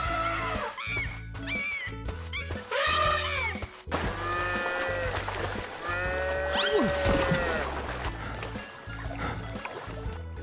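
Cartoon cow mooing in an animated scene near a fountain, several drawn-out moos rising and falling over a busy backdrop of music and effects, loud and close.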